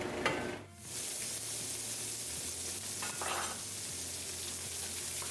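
Beef searing in a pot for a home-canned stew, steady close sizzle and hiss with brief stirring and scraping noises partway through, no talk.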